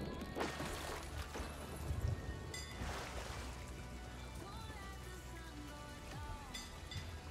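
Rain pattering steadily on a surface in the pirate video game Sea of Thieves, faint and continuous, with scattered clatters and soft game sounds over it.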